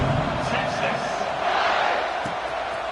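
Football stadium crowd during a Penn State kickoff in a game broadcast, a dense steady roar of many voices filling the whole stretch at an even, fairly loud level with occasional louder shouts rising out of it.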